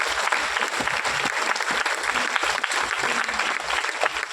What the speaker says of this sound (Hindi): एक बार किसानों की प्रो के लिए एक बार जोरदार ताली बजाइए।